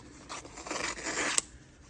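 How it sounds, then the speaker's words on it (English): Scissors snip close by, trimming excess batting from the back of an embroidery hoop, with a quick series of soft crisp cuts and scrapes over about a second, with no voices. "I'm just gonna trim off this excess"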